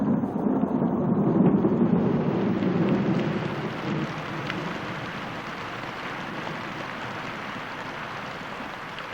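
A thunderstorm over Yellowstone brings a broad roar of heavy rain with a deep rumble of thunder swelling early on, then settling into steady, dense rainfall.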